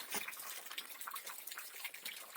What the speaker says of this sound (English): Coming in here to a little waterfall.